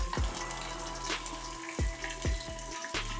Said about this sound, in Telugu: ఉల్లిపాయ ముక్కలు వేసుకొని కలుపుకోవాలి.